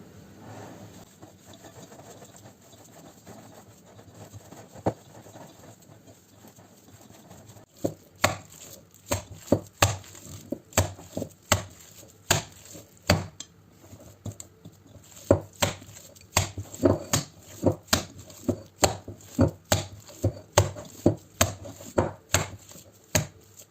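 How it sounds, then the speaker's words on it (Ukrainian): Repeated sharp slaps of minced meat being compacted for meatballs, loud and fairly regular, starting after a quiet stretch and continuing in quick bursts with brief pauses. "І, звичайно, ще в кінці відбиваю, так як на котлети, для того, щоб фарш збився"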